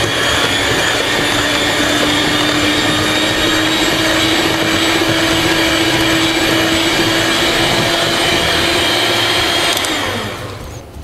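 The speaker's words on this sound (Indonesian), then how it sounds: "Kita mau sedikit bermanja-manja deh. Pakai mixer." An electric hand mixer beats donut dough with evaporated milk, a steady loud motor whine and whir running unbroken for about ten seconds before tapering off at the end.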